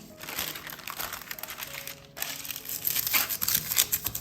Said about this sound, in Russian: И выстилаем пергаментной бумагой.